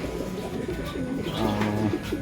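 Racing pigeons coo in soft, throaty, repeated calls, close by, over a steady background rumble.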